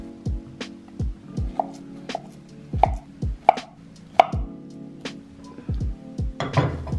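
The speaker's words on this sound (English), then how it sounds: "Start by peeling one of the bananas and cut it in small pieces." A knife chops peeled banana into small pieces on a board, sounding as a run of about a dozen sharp, close taps in an uneven rhythm, with light clatter toward the end.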